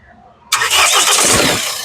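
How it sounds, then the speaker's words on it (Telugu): After a brief quiet moment, the engine of a 2015 Mahindra XUV500 W8 SUV cranks and catches at once on a single crank, then settles into a steady, quiet, close idle. "సింగిల్ సెల్ఫ్ లో కార్ స్టార్ట్ అవుతుంది"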